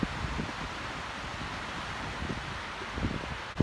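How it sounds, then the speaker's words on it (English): Steady wind at a beach near Cancun rushes and buffets the microphone, a constant broadband roar with faint rustling and no voices. "It's kind of windy"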